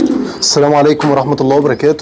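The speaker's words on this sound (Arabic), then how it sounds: "لقيت الحمامة دي واقفة على سور البلكونة عندي" A pigeon coos on a rooftop balcony wall, a close, loud run of throaty warbling calls heard together with someone speaking a greeting.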